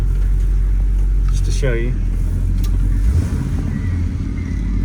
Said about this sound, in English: come to a stop and give it a little bit of a spirited acceleration